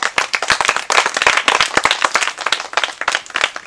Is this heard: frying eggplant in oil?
no